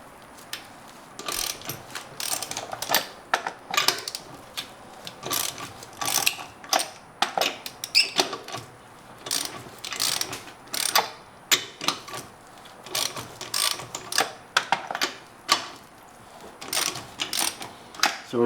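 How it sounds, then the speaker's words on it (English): A ratchet wrench loosening the wheel lug nuts on a 2017 Hyundai Elantra, close rapid clicking bursts repeating in uneven spurts with short pauses between, no talking. "now that we have all the lug nuts loosened while the weight of the car's on the ground"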